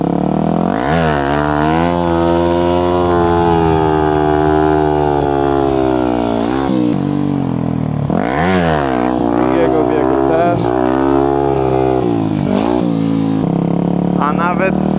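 A 250cc motorcycle making about 30 hp revs hard in first gear to lift into a wheelie, its loud engine note climbing and falling in repeated surges, close and continuous.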